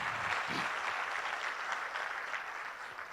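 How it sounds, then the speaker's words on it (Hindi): Applause from an audience at a Hindi-language talk or motivational event, a steady wash of clapping held at an even level throughout, moderately loud and without voices on top. "एक बार जोरदार ताली हो जाए आप सभी लोगों के लिए"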